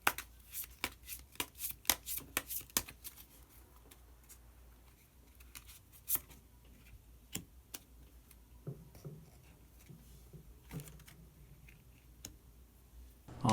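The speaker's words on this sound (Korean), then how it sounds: "마지막으로 히든 카드 한 장 더 뽑아보도록 하겠습니다" Tarot cards shuffled by hand before drawing a hidden card, a quiet run of soft riffling snaps and taps, busier at first and then sparser, close up with no talking.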